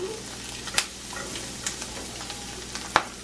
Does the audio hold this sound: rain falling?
no